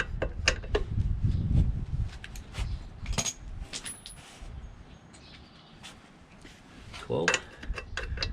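Metallic clicks and clinks come from a socket wrench working a part loose on a lawn mower, in short irregular bursts with pauses, and a low voice is heard at times.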